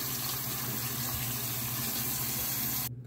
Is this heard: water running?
yes